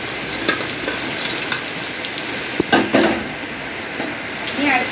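Dry red chillies roast in a pan with a continuous dry sizzle and occasional scraping stir strokes, while heavy rain hisses steadily in the background.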